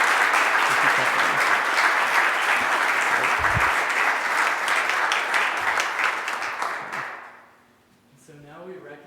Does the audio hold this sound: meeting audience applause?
yes